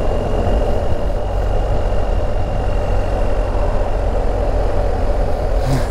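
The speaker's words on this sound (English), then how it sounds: "this is literally the first two-wheeler I've ridden since my event" A BMW R1250GSA Rallye motorcycle engine runs steadily, a loud continuous low rumble mixed with wind rush and no talking.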